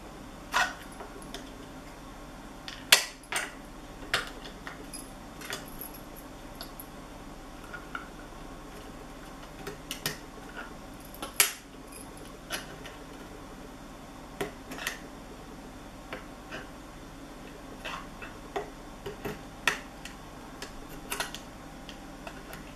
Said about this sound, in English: it'll just sort of click in place once you get it in the correct spot